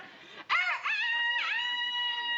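A person imitates a rooster crowing indoors in a bank, with two loud, close, wavering cock-a-doodle-doo calls in quick succession.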